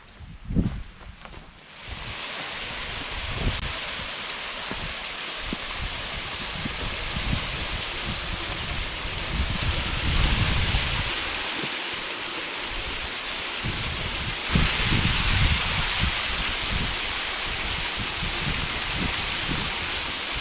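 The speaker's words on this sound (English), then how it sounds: "there should be a waterfall" A waterfall on a hiking trail in a nature preserve on a stormy day gives a steady, rushing broadband roar from about two seconds in, with scattered crunching footsteps and low rumbles underneath.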